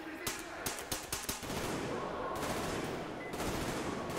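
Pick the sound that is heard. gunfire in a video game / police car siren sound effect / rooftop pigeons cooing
gunfire in a video game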